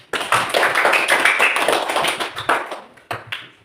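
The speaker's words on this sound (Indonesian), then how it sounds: "Kita memberi aplaus satu kali lagi untuk kelompok 3." Classroom group applauding a student team, a burst of close, dense hand clapping that thins out to a few scattered claps, with no talk.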